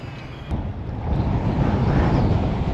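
Strong wind on a bass fishing outing buffets the microphone in a steady, rumbling roar that swells after a short click and stays loud throughout.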